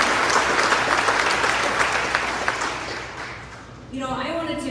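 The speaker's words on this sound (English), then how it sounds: "Let's give him a round of applause." An audience applauds a lieutenant governor who is also a veteran, at an event honoring the South Dakota National Guard. Steady, dense clapping fills the room and fades slightly before a voice begins speaking over the tail end.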